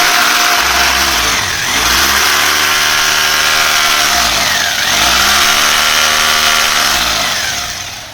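Electric hammer switched to drill mode and powered from a battery-less inverter, whirring loudly in repeated speed swells, its motor pitch dipping and climbing again several times, with no one talking.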